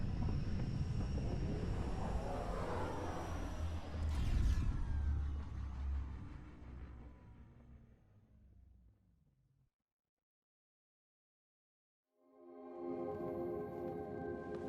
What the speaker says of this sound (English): Descent engine engaged.